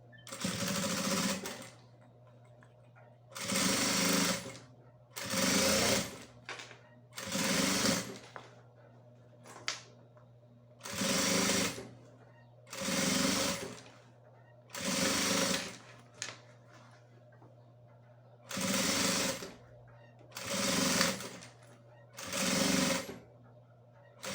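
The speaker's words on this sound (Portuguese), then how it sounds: "E vou passar uma costurinha. Vou aumentar meu ponto para 5, porque é só uma costurinha de segurança." A sewing machine runs a safety seam on a bag lining at stitch length 5, in about ten evenly spaced bursts of loud, close whirring, separated by brief pauses.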